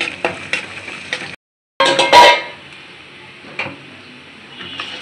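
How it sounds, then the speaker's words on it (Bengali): Onion and garlic frying in a pan for a dried loitta fish bhuna, with a steady crackling sizzle, clinking stirring strokes and a brief cut to silence before a louder burst of frying. "পেঁয়াজ রসুন দিয়ে দিলাম, সুন্দর করে ভাজা ভাজা করে লই"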